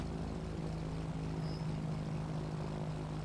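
A Piper PA-28R Arrow aircraft in Flight Simulator 2024 drones with its engine and propeller, a steady, close, low-pitched hum that holds even throughout without speech.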